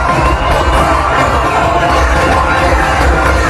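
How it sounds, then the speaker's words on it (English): A cricket stadium crowd cheers a boundary with a loud, sustained roar of many voices and whoops, dense and steady for several seconds. "the crowd finally have something to cheer about"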